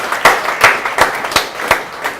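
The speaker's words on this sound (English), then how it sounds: "I think that deserves a round of applause" Conference attendees at a Blackmagic Design expo clap in slow, evenly spaced beats, with a handful of loud, close hand claps sounding about three times per second.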